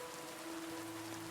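Soft, steady rain falls as a continuous hiss with a faint low tone underneath, quiet and even throughout.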